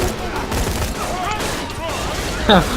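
Rapid bursts of turret gunfire in Borderlands 2 crackle through a co-op firefight, with a louder, sharper burst near the end and voices talking over the action.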